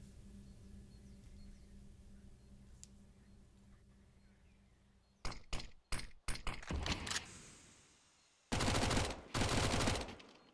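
A Mac 10 submachine gun in Counter-Strike fires in sharp rapid bursts over a quiet background, first in a few broken clusters and then in a dense sustained spray near the end.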